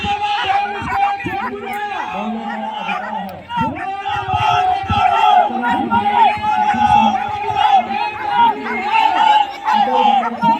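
A crowd at a dog show on a BSF campus in Indore chants slogans in loud, continuous rhythmic waves, with many voices overlapping into a dense roar that dips briefly midway.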